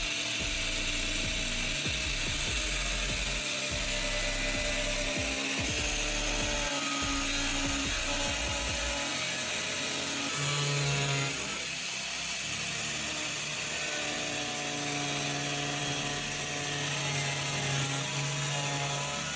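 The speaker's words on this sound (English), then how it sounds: "I'm using an angle grinder to cut right along that white line" An angle grinder cuts along a marked line on a plastic can, a loud, close, continuous high whine with rough grinding and a pitch that shifts as the disc meets the material, sustained throughout without speech.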